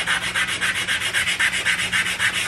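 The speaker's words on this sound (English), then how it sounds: "I started sanding on it a little bit, and I keep test fitting it" Close-up hand sanding of a Husqvarna 365 chainsaw part: steady, rhythmic back-and-forth scratchy strokes, about four per second, with no talking.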